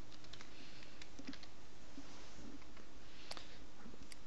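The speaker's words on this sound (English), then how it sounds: "Typing is terrible, apologies." Keys on a computer keyboard tap in quick, irregular bursts, faint and close, against a quiet room hum.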